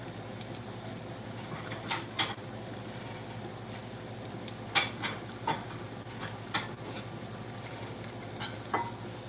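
Quiet, steady sizzle of tuna cakes frying in a pan, with occasional soft clicks and scrapes of utensils, no one speaking.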